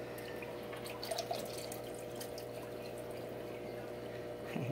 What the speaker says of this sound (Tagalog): hindi ko napipigilan yung pagbuhos ng tubig eh